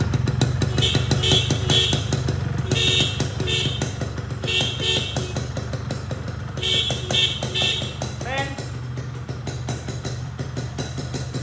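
Several short horn blasts from a 2003 Yamaha RX-King motorcycle sound in repeated bursts over its running engine, close by, with a brief rising electronic tone near the end.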